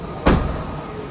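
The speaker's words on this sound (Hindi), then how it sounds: "अब हम कर देते हैं गेट को बंद।" The rear tailgate of a Toyota Hyryder hybrid SUV slams shut with a single loud thud, followed by a brief ringing decay in a quiet setting.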